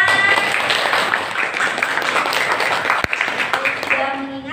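Classroom of students clapping together in a dense, loud burst, with voices and chatter mixed through the applause.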